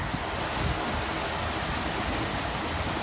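Waterfalls splash in the Pandora area of a Disney theme park, near the floating mountains, as a steady, dense rush of falling water that stays even and full throughout with no voices.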